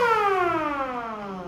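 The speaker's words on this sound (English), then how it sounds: "Now, to power our siren, let's power on our MCB first." An electric siren powered through a bell relay wails loudly and steadily, its tone gliding slowly downward without pause and with no voices over it.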